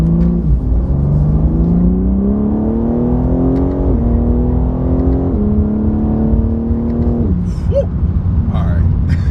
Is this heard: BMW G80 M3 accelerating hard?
yes